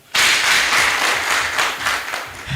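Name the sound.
applause for the technical crew at a debate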